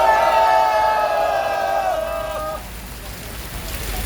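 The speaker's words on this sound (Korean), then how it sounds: "힘찬 함성 부탁드리겠습니다." A crowd at an outdoor political rally cheers and shouts together, a loud mass of voices that swells at first and gradually fades over a few seconds.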